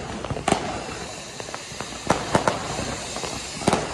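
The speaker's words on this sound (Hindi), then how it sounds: "हमारे दोस्तों ने फिर से चला दिया 50-50 शॉट" Diwali firecrackers burst in a series of sharp, loud cracks, with a few bigger bangs among scattered smaller pops over a steady outdoor hiss.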